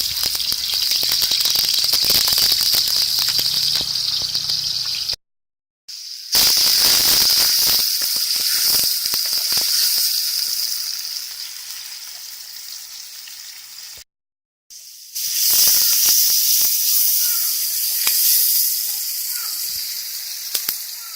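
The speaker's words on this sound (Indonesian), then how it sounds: "Lalu tumis bumbu yang sudah kita haluskan." Ground spice paste sizzling and frying in vegetable oil for a young-banana curry, a steady close crackling hiss with brief gaps, fading slightly midway before resuming loud.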